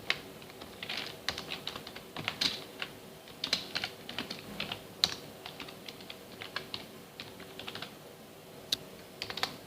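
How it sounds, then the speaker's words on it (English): Steady computer keyboard typing with quick, irregular keystroke clicks and small bursts. The clicks are close and fairly quiet over a soft background hiss, with no talking. "So here I can type my message."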